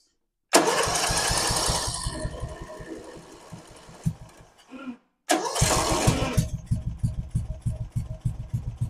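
A Craftsman lawnmower engine, flooded with fuel, coughs to life with a loud close burst, sputters and fades, falls silent briefly, then catches again into a rapid, uneven running chatter.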